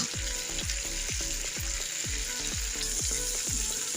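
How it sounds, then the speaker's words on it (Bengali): Chicken tandoori pieces fry in mustard or soybean oil in a pan on a gas stove, a dense continuous sizzle with a regular rhythm of low thumps as the pieces are turned, loud and close. "এভাবে আমি সবগুলো উল্টিয়ে পাল্টিয়ে ভেজে নেব।"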